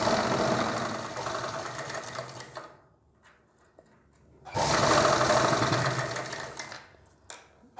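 A sewing machine stitches along a blouse back neck in two loud close runs of rapid mechanical whirring, separated by a quiet pause with faint handling clicks, then a brief final burst.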